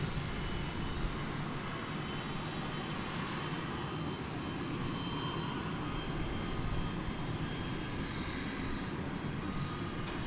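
An airliner jet at DFW Airport roars steadily and loudly at night, a continuous broadband engine rumble that holds throughout with no pauses.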